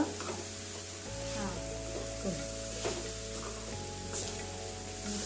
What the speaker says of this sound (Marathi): गुळ वितरेपर्यंत आपल्याला हे असंच हलवत राहायचं आहे